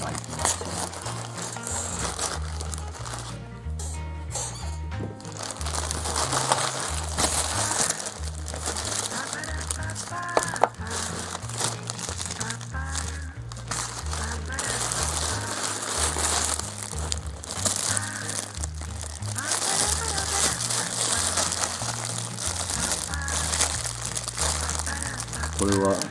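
Plastic wrapping crinkles and crushes throughout the unboxing of an AliExpress hundred-yen-shop package holding Bluetooth headphones, with close, continuous rustling and crackling over a rhythmic low backing beat, and a person talking at times.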